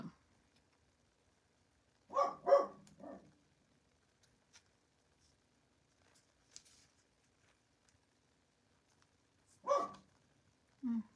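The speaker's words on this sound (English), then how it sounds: "So they stand on my bed, they look out the window, and they bark at the kids." Dogs bark indoors at children next door, in two short clusters of sharp barks a few seconds apart with quiet between them. The barks are moderately loud and come without any talking.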